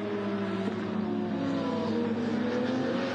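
Race car number 68 rolls slowly down the pit lane at the Hampton Downs 12 Hour endurance race, a steady low engine drone with harmonic whine holding at restrained speed, continuous and fairly close with no talk.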